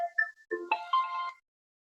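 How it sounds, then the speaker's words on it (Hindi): A phone rings with an incoming call, a short bright electronic ringtone melody of stepped tones that plays for about a second and a half before stopping, close and clear with no talk over it. "फोन आ गया,"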